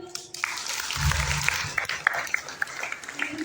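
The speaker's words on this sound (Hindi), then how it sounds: "सभी में ताली बजाते हो." Church congregation at a youth Sunday service clapping, a scattered run of hand claps with some sharp individual hits, moderately near, following a brief voice.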